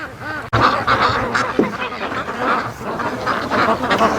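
Ducks call near an aluminum boat anchored on a lake, a dense run of honking quacks that continues throughout, fairly close, with a sharp knock near the start.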